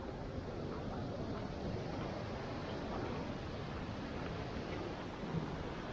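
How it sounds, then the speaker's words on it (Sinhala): Water trickling and rushing at Kravica waterfall in Bosnia, a steady broadband wash of falling water that holds even and continuous throughout, with no voices over it. "මේ වතුර ලීක් වෙනවා"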